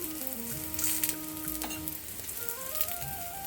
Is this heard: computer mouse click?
no